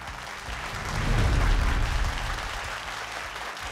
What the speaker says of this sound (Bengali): জোরে হাততালি দিয়ে ওনাকে স্বাগত জানান